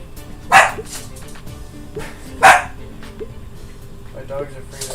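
A dog barks indoors, two sharp, loud barks about two seconds apart, with quieter room sounds between them.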